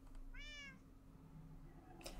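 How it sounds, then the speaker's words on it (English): A cat familiar meows once in Minecraft, a single rising-and-falling call near the start over a steady low game hum, followed by a brief soft rustle near the end. "She can only speak in meows"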